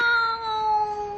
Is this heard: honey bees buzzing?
no